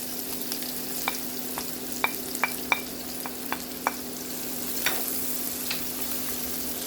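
Onion frying in a pan, a steady soft sizzle broken by a string of crisp clicks and taps as the pieces are stirred, quiet and close with no talking.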